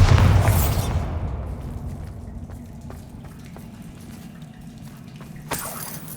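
A Bombarda blasting spell detonates in Hogwarts Legacy: one loud, close explosive boom that fades into a long rumbling tail with debris pattering, then a small sharp burst near the end.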